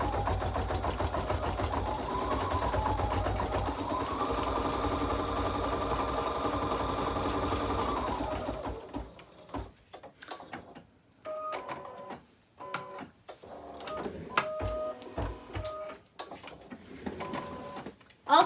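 An embroidery machine stitches out a design, a steady mechanical hum and rapid needle clatter for several seconds, then quieter intermittent whirs, clicks and stops as it shifts between moves.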